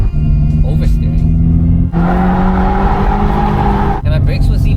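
A car is driven hard around a race track on a first track day, a loud close engine drone that shifts pitch as it revs up and down through gear changes, with talk over it.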